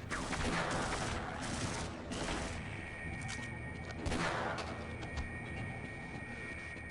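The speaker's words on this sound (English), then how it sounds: "I don't know what's shooting at me or killing me." Gunfire from the Half-Life video game crackles in repeated loud bursts, with dense rapid shots and clattering impacts over a steady background hum.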